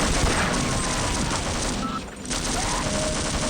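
Rapid turret gunfire in the Half-Life video game crackles as a dense, continuous burst of shots, briefly thinning for a moment before resuming at steady volume.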